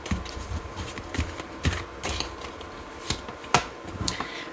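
Tarot cards being pulled from a deck and laid down: soft close card slides, taps and flicks in an irregular run, quiet, with no talking.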